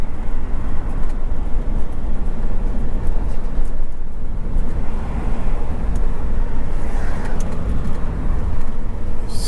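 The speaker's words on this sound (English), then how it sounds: "Semi-truck." A semi-truck passing on a southern Arizona road, heard from inside a moving vehicle as a loud continuous low rumble and road roar that swells slightly partway through, with no talk.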